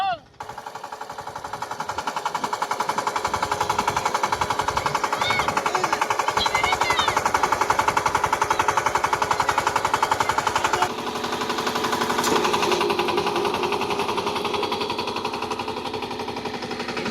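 Tractor engine running steadily on a farm, a loud continuous rattling drone with a rhythmic mechanical knock that shifts in pitch partway through; people talk over it.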